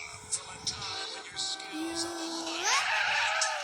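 A car in GTA San Andreas brakes hard, its tires squealing into a rising, drawn-out skid over the engine roar, with a few short thuds and a voice talking beneath.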